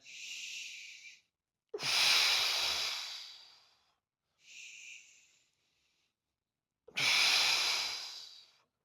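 Deep, slow breaths during a wall stack posture exercise with arms reaching forward: two soft inhales and two longer, louder airy exhales alternating with pauses, close to the mic and free of talk.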